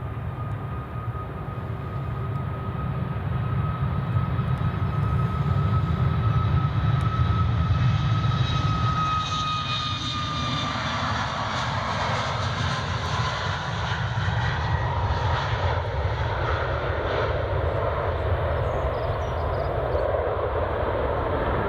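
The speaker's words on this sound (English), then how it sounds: "We're just gonna pan back for the 737 MAX departing." A Boeing 737 MAX jet departing Edinburgh Airport, its engine roar steady and powerful throughout with a rising whine that shifts in pitch as the aircraft passes, heard from a distance without talk.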